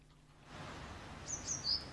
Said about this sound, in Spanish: mirá los pajaritos en Módica